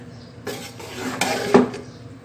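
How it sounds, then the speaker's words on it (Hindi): A spoon scrapes and clinks against a metal pot while masala is mixed for a vegetable and chicken dish. The clatter is close and irregular, with a few sharper knocks and no talking. "इस सारे मसाले को मैं अच्छी तरह से मिक्स कर लूँगी"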